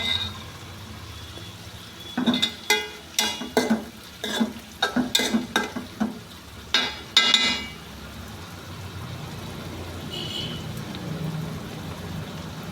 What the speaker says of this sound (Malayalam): നല്ല രീതിയിൽ പൊരിയുന്നുണ്ട്